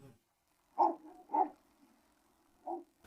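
A three-and-a-half-month-old Cane Corso puppy gives three short, moderately loud barks, two close together and one after a pause, over a quiet background.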